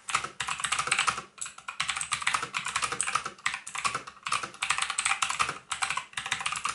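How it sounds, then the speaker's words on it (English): Steady, fast typing on an Aukey 88-key mechanical keyboard, with crisp, clacky keystrokes close up in continuous bursts and only brief pauses between them. "that sound came from the Aukey 88 key mechanical keyboard"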